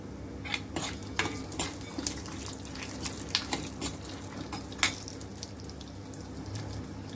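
Dal and bitter gourd are dry-roasted in a pan for chutney, with a close run of light metallic clicks and scrapes from a spatula against the pan.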